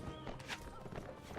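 A horse in the video game Mount & Blade Warband, its hooves clattering through a dense, busy mix of battle noise with no clear pauses.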